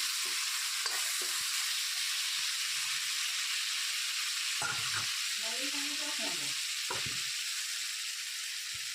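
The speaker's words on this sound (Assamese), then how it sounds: "মছলাখিনি অলপ ভাজি লৈছো" Spice mix with panch phoron fries in a pan for samosa filling, a steady close sizzle and hiss with brief stirring scrapes and clinks.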